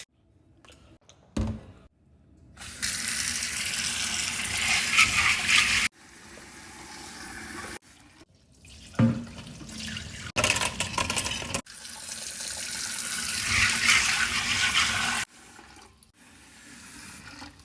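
Kidney beans are washed under a running kitchen tap, with several long bursts of gushing water split by short pauses and handling noises, fairly close and loud.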